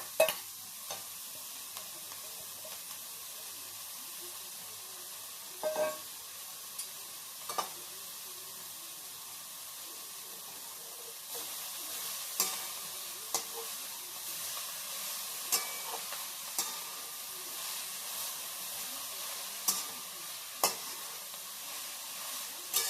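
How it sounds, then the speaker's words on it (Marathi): Chopped coriander is stirred and sautéed in a pan with a steady, soft sizzle, broken by occasional scrapes and clicks of the spatula against the pan. "हे चांगल्या प्रकारे परतून घ्यायचं।"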